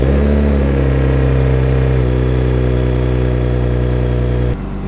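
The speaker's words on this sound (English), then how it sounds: "We're about to get a 4 month cold start, 3 month cold start on this thing." A Mercedes engine fires up after sitting for months in dusty 80-degree heat and settles into a loud, close, steady idle with a fast uneven throb, then drops sharply in level near the end.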